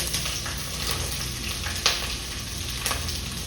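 Onions and green chillies frying in oil in a pan for a prawn and ridge gourd curry, a dense continuous sizzle with a couple of brief clinks, close and steady throughout, no talking.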